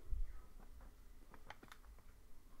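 Quiet, sparse clicks of computer keyboard typing, a handful of light keystrokes at an uneven pace, close but faint, with no voices.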